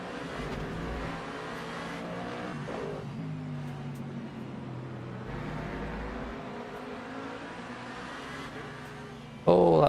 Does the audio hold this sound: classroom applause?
no